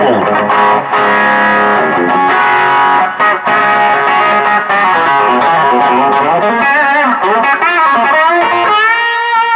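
Heavily distorted, high-gain electric guitar chords through a Quilter SuperBlock UK amp ring out loud and sustained, buzzing with saturated harmonics and a slight noisy edge.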